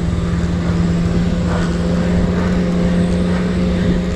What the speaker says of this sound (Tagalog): Naririnig niyo yung sasakyan.